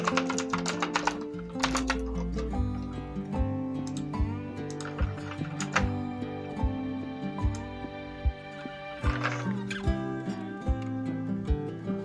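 Typing on a computer keyboard while designing a flyer in Photoshop: quick clusters of light clicking keystrokes with short pauses, close and fairly quiet throughout.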